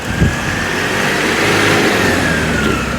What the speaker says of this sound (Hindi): अब नेक्स्ट आया अभी इंजन साउंड। अब इंजन साउंड की ये रीडिंग आ रही है।